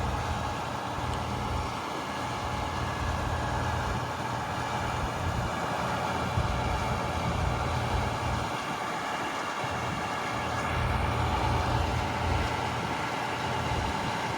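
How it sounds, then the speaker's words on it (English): An International 7500 crane truck with a derrick boom extending, its engine held at mid throttle in a steady, continuous diesel drone with a low rumble, close and unchanging throughout, without talking. "We do have it just operating at mid throttle"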